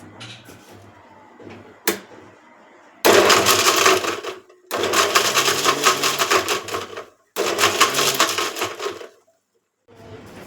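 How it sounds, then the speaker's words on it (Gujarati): A kitchen mixer grinder jar grinds rock salt and other ingredients for a homemade sugarcane juice, running in three loud bursts of harsh whirring separated by short pauses. "આપણે મિક્સર જારમાં તેને પીસી લેશું"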